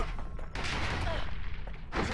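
Gunfire in the video game Bastion, a dense continuous fusillade of overlapping shots with a few sharper bursts, filling the whole moment at moderate loudness.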